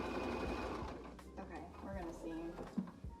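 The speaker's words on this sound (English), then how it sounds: "let's sew and then I'll show you" A sewing machine stitching jeans, a soft rapid mechanical whir and ticking at close range, quiet, with small clicks and fabric handling sounds, and a voice talking over it.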